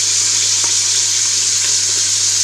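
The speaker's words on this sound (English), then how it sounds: "And let the onion brown a little bit, if I can." Onion frying in a pan as a base for sweet and sour red cabbage, a steady close hiss of sizzling oil with no talk, continuous and even.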